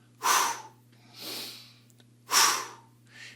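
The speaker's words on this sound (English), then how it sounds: "We're going to have hands on the belly, and we're going to do something called fire breathing." Fire breathing done with hands on the belly: sharp forceful breaths in through the nose and out through the mouth, three loud close bursts with a softer one between, over a faint steady hum.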